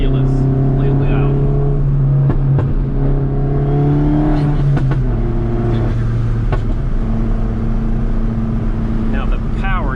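A 2012 Mini Cooper S turbo engine revs loudly and continuously, holding a steady drone with rising pitch sweeps, while a person speaks over it.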